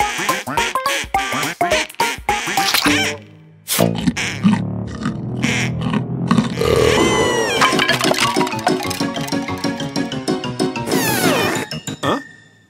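A cartoon vampire duck quacks loudly in a cartoon Halloween scene, with dense repeated squawking calls over busy music and effects, briefly cutting out before resuming just as loud.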